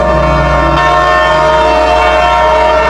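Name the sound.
train whistle and train arriving, sound effect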